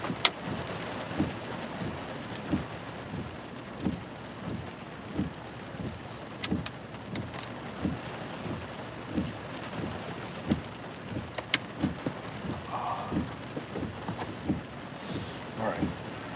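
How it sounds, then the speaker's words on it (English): Rain keeps falling through a thunderstorm line near Alexandria, Louisiana, under a tornado warning, a soft steady wash broken by repeated muffled low thumps and a few sharp crackles. "We still got a line of storms coming over us with some pretty good water."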